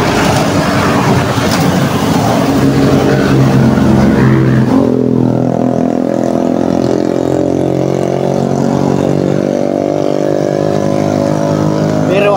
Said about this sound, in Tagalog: Pero pagka minsan ay bumubulyong pa rin ang sasakyan